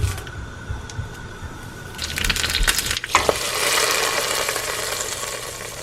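Mustard seeds, dried chillies and curry leaves hit hot oil on a low flame: a few soft clinks, then a loud burst of sputtering and crackling that settles into a steady, close sizzle.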